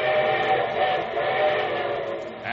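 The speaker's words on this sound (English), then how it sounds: "And here comes the summer show train." Steam train whistle used as a radio show sound effect, a sustained, loud, steady chord-like blast that holds unbroken, with no talking over it.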